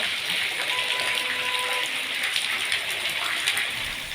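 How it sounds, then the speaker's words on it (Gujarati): Heavy monsoon rain pours steadily over villages in Saurashtra, Gujarat, a dense, continuous hiss of drops with no letup, close and loud throughout. "ગોવિંદપુર, સુખપુર, દલખાણીયા સહિતના ગામોમાં મેઘરાજા મન મૂકી અને વરસી રહ્યા છે"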